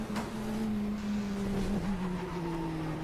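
Race car engine in the GTR2 racing game at Circuit of the Americas, a steady loud drone with a brief dip as the car slides, continuous without speech.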